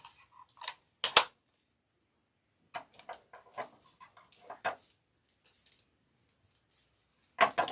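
Tape is pulled and torn in short sharp rips and crackles around a skewer for a balloon bouquet, in sporadic bursts separated by quiet gaps.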